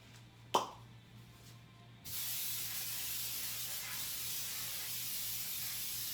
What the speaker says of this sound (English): I'm going to spray my pan with oil.